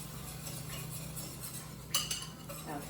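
A metal whisk stirring flour into melted butter in a pan, soft scraping strokes with a hum in the background and a couple of sharper clinks against the pan near the end, no one talking.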